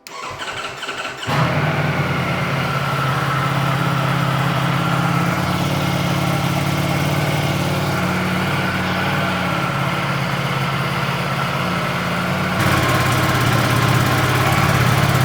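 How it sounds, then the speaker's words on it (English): A Ducati Panigale V4 motorcycle engine cranks and fires up from a cold start, then settles into a steady, rumbling idle that runs on without pause, its tone shifting slightly near the end. "So this is a completely cold start, and we'll see how quiet this bike is."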